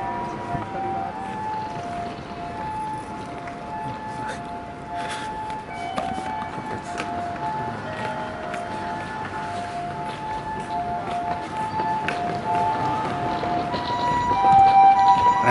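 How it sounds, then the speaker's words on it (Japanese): An ambulance siren wails steadily through busy street noise at an intersection in Showa Ward, Nagoya, swelling louder as it passes close by near the end. "救急車が通過いたしますね"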